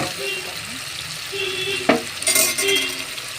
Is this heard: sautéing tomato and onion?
yes